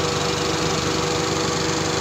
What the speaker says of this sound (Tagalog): so ito yung makina natin mga boss, 16 valve